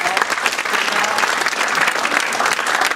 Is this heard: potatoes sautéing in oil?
no